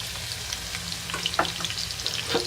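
Garlic ginger paste, green chilies and asafoetida frying in hot oil, giving a steady loud sizzle and crackle with small spits and pops throughout.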